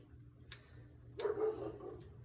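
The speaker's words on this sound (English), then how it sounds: "The neighbor's dog is barking. You can probably hear that" A neighbor's dog barking outdoors at a distance, two or three short faint barks with a quiet background and no speech, heard from inside a home kitchen.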